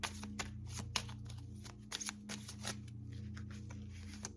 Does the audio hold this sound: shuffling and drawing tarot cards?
yes